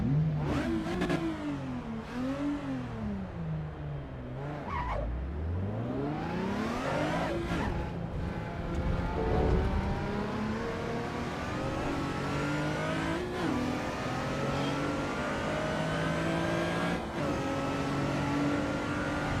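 A race car engine in Assetto Corsa EVO downshifts repeatedly, its pitch dropping in stepped blips and then climbing again as it revs back up under acceleration. The engine note is loud and close throughout.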